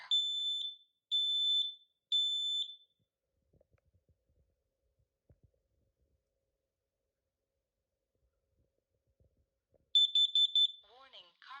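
Combination smoke and carbon monoxide alarm under test, giving three loud piercing beeps in an even rhythm, then quiet, then a fresh burst of beeps as a recorded voice begins speaking.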